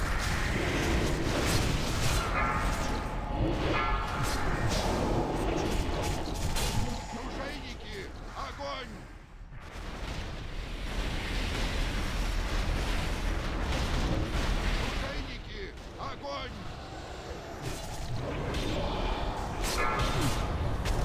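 Ship cannons fire in a fantasy video game battle, repeated booming blasts and bursts at irregular intervals, mixed with loud in-game shouting and combat noise throughout.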